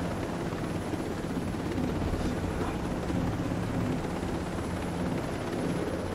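Helicopter rotor and engine noise from the Ghost Recon Breakpoint video game, a steady, loud, dense drone that carries on without a break throughout.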